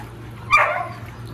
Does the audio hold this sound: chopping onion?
no